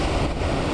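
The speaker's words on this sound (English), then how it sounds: "It's not very big waves." Small, gentle ocean waves washing onto a cold beach at Sennen Cove near Land's End, a steady close wash of surf with some wind buffeting the microphone.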